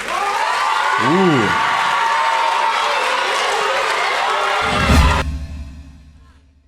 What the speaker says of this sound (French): Est-ce qu'il y en a qui peuvent applaudir?